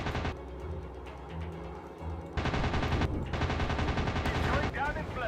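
A ray gun fires in the WW2 dogfight video game Warplanes: rapid continuous bursts of gunfire, louder and denser after the first couple of seconds, with no talk over it.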